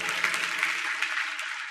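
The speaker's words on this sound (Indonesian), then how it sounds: "Beri tepuk tangan untuk Tuhan Yesus." Applause from a church congregation during a sermon: a steady, dense wash of clapping that holds at a moderate level for under two seconds, with no voices over it.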